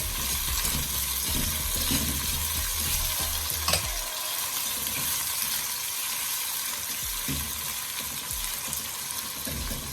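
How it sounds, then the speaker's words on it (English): Tomatoes sautéing in a pot for corned beef and cabbage give a continuous close frying hiss with intermittent stirring clatter, the sizzle thinning slightly after a few seconds, no one talking. "I'm just going to leave this to saute for about 2 minutes"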